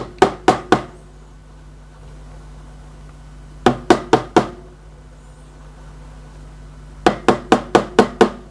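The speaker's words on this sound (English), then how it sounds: "let's knock out the bubbles" A metal milk pitcher of steamed milk for a caffè latte is tapped against a counter to knock out bubbles: three sharp knocks, a pause, four more, then five, close and loud over a low machine hum.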